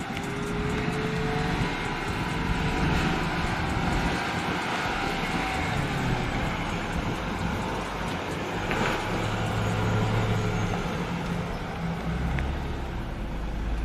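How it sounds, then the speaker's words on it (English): A Land Rover Defender crawls off-road in low range with rock crawl mode engaged, its engine a steady low rumble with continuous drivetrain and tyre noise throughout, fairly close and even in level. "As soon as the driver touches the gas pedal, Land Rover immediately starts driving."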